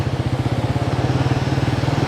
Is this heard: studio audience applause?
no